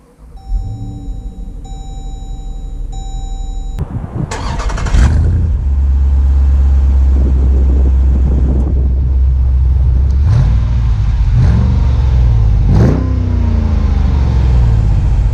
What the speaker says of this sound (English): let's take the 2019 SRT Grand Cherokee out to see how it drives